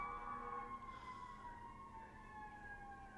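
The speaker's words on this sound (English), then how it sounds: "A lot of sirens going on right now." Emergency sirens wailing far off along a roadside, faint and drawn-out tones rising and falling over a low background hum.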